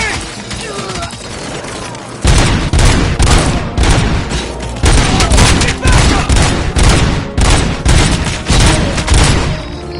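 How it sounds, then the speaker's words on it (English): Heavy gunfire in a RoboCop video game, dense rapid bursts and volleys of shots, loud and close, with game voices shouting orders in between. "Keep firing!"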